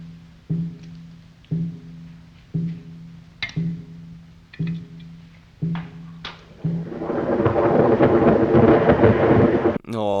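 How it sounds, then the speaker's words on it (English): Storm from the 1935 film Bride of Frankenstein: a slow series of low booming thunder strikes repeats about once a second, then gives way to a loud, sustained rumbling roar of crackling thunder and rain that cuts off abruptly. "we have the thunder and the lightning crackling"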